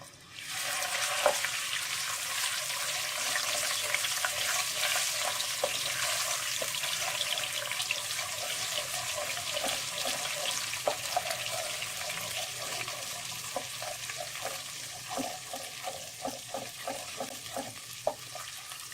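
Fenugreek seeds and ginger-garlic paste sizzle in hot oil for a brinjal and potato curry, with a steady close crackle and occasional stirring scrapes. No one speaks.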